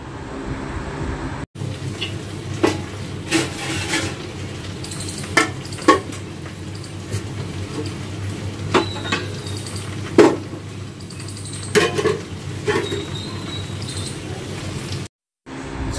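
Okra frying in a pan on a home stove while being stirred, giving a steady sizzle with scattered scraping clicks of the utensil against the pan; no voices.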